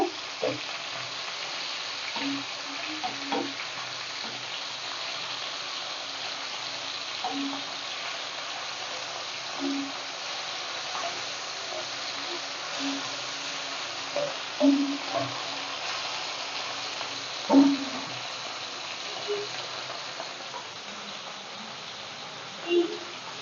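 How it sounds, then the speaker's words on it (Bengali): Fish frying in a pan in a home kitchen, a low, steady sizzle with occasional soft clatters and bumps over the whole stretch, fairly quiet and without speech. "মাছ ভাজাটা হয়ে গেছে এবার আমি উঠিয়ে নেবো"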